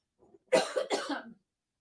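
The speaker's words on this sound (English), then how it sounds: "I do have to clear my throat here" A man clears his throat close to the microphone: a faint lead-in, then two harsh, gravelly bursts over about a second, alone in silence.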